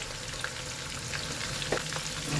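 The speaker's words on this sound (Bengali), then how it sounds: "আর এই যে আমি দু চামচ জিরে দিয়ে দিচ্ছি এর মধ্যে" Two spoonfuls of cumin seeds crackling in hot oil in a pan while chicken fry is prepared, a dense continuous sizzle with small pops, close and fairly loud, without talk.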